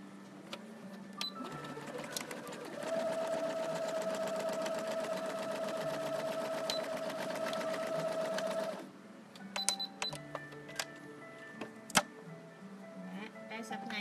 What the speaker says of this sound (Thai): ตอนนี้กำลังเย็บซับในค่ะ